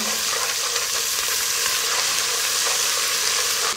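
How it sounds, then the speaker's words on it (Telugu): Turmeric and ginger-garlic paste fry in hot oil, giving a loud, steady broadband sizzle that holds without a break. "ఇప్పుడు ఇందులో పసుపు, అల్లం వెల్లుల్లి ముద్ద, ఈ రెండింటిని కూడా నూనెలో వేసి చక్కగా వేయించండి"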